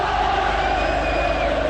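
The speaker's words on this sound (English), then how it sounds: "the Old Trafford crowd are trying to lift United once more" Old Trafford football crowd at a Manchester United versus Manchester City derby in the 1992/93 Premier League, roaring and chanting loudly in a dense, sustained wall of voices.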